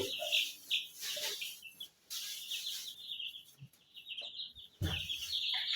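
Young chicks on a poultry farm chirp in repeated bright, high peeps, close and fairly faint, with occasional clucks and bumps mixed in.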